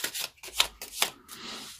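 Tarot cards riffle and slap in a few quick shuffling bursts, close and crisp, with short gaps between each flurry.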